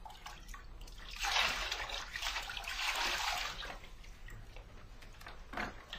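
Bath water is scooped by hand and splashed over the body, giving soft pouring and splashing sounds that swell and fade, followed by quieter trickles and drips in a small room.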